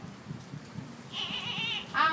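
Goats bleat on a goat farm: low rustling and shuffling, then a loud wavering bleat and a second cry starting right after it, close by and with no talk.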